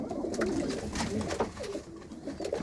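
Soft, low pigeon coos repeat in a gentle rolling rhythm, close by, with a faint murmur of voices in the background.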